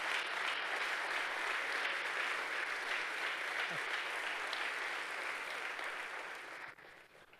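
Sustained applause from a church congregation at an annual retreat, a dense steady wash of clapping that carries on for several seconds before tapering off near the end.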